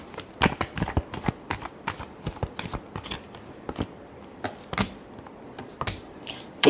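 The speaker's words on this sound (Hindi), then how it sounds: "Last shuffle." Tarot cards being shuffled by hand in a quiet room, a rapid irregular run of close, crisp riffling slaps and snaps.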